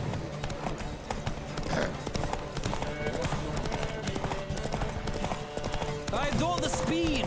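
Horse hooves clip-clop rapidly in a galloping rhythm during a race in The Witcher 3: Wild Hunt, with occasional whooshing and snorting sounds layered over a busy, mechanical-sounding game soundscape.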